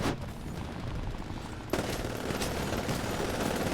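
Gunfire in the video game Titanfall, a steady rapid stream of shots that grows louder and denser partway through, continuous and close, with no voices over it.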